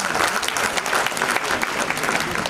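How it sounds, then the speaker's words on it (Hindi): Loud, dense applause from an audience at a film festival welcome ceremony in Dehradun, steady clapping filling the whole stretch with no break. "आप सभी के लिए एक बार पहले जोरदार तालियां बजाइए।"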